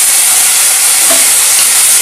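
Fried pointed gourd goes into onions frying in hot oil and is stirred, producing a loud, steady close sizzle and hiss that runs without break.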